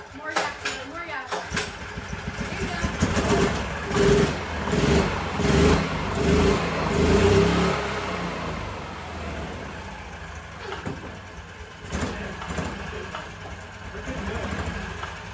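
An old golf cart engine, long abandoned, revs in repeated surges on the throttle, rising and falling loudly, with voices talking and calling out over it.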